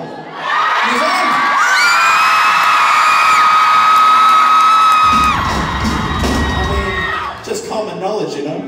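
A concert crowd at a show in Auckland lets out long, loud, high-pitched screams and cheers, then a voice talks over the settling crowd noise.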